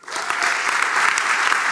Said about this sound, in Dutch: Heel groot applaus voor Noor Spanjer.